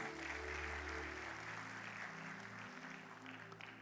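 Church congregation clapping during a sermon, a fairly faint, continuous patter of hands over sustained low organ or keyboard tones that shift partway through, with the clapping thinning slightly toward the end.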